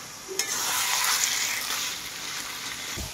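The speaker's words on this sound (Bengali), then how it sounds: "মাংসটাকে একটু কষিয়ে নিই, কষিয়ে তারপরে প্রেসারে দিয়ে দেবো।" Meat being browned in a pan over steady heat, a continuous close hiss of frying with a few faint stirring scrapes.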